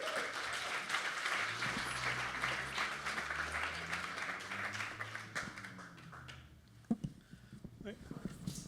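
Audience applause welcoming a speaker to the stage at a talk on reverse engineering integrated circuits. Steady, dense clapping lasts about six seconds, then fades to a few scattered claps.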